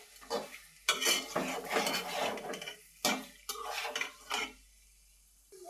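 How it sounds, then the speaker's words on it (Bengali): A spoon stirs fish with spices in a pan for a thin Bengali fish curry: several close, scraping and clattering strokes separated by short pauses, with a soft sizzle between them. "মশলার সাথে ভালোভাবে আমি মিক্স করে নিলাম"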